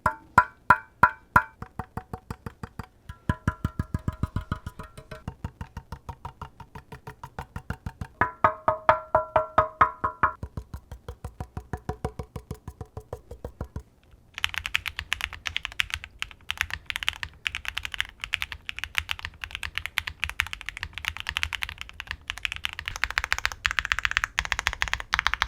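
Typing on a tenkeyless mechanical keyboard fitted with a force break mod, giving crisp, close key clacks in quick irregular bursts with brief pauses, then a denser, continuous run of fast keystrokes.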